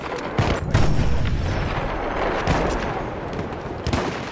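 Battlefield 1 battle at Gallipoli with enemy machine gun fire: loud, dense rattling bursts and booms over continuous combat noise, with sharper impacts near the start and end.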